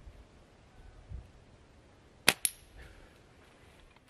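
Slingshot shot striking a metal target outdoors, a single sharp distant crack followed by a quick metallic ping against quiet background.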